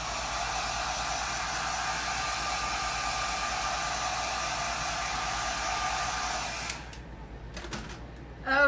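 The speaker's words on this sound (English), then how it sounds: "So I'm going to use the hair dryer." A hair dryer blows steadily at close range for about seven seconds, heating glass in a crafting setup, then switches off, leaving a few faint handling clicks and knocks.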